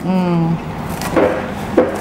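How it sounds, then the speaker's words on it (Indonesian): A knife slicing red chili peppers on a cutting board while cooking stir-fried tempeh with green beans, a couple of short crisp cuts at close range after a brief whining tone. "cabai merahnya juga ada yang diiris nih"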